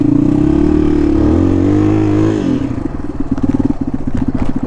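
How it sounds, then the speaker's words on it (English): A 1993 Yamaha XT225 motorcycle climbing off road, its single-cylinder engine loud and close, holding a steady drone before dropping into a choppier, pulsing chug as the bike labors uphill. "This bike will climb pretty good."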